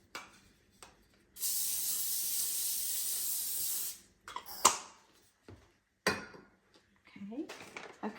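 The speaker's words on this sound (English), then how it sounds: "you'll need to spray it with some cooking spray" Cooking spray hisses steadily onto foil for about two and a half seconds, close by, followed by a few light clicks and handling noises.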